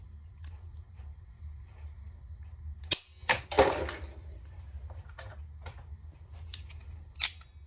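Clamping pliers make a cut, giving a sharp snap followed by a crunching rasp as the jaws bite through, with scattered small clicks before and after and one more sharp click near the end.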